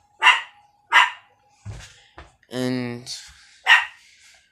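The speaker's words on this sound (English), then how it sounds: "Dog's been barking all day." A dog gives several sharp, separate barks at spaced intervals indoors after dark, with a person speaking briefly between them.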